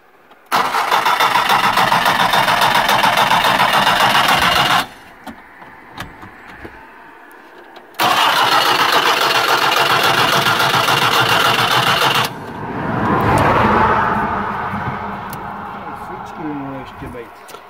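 A Škoda Favorit car engine cranks in two long loud bursts separated by a pause, then catches and settles into a rough idle. People talk nearby throughout.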